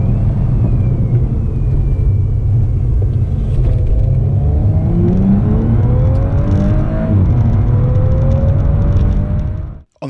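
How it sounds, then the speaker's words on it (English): A stage 1 Audi S4 accelerates hard through a 30 to 70 mph sprint, its engine drone climbing steadily in pitch through the gears with a loud, continuous rumble, heard close from inside the cabin and cutting off abruptly at the end. "now it's time to put this thing through its paces and do the 30 to 70 sprint"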